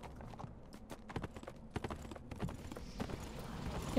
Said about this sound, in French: Il recommence avec son cheval hopping là